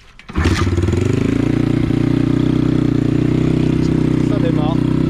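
A dirt bike engine fires up after a brief crank, catching abruptly and settling into a loud, steady, close idle with a rhythmic throb.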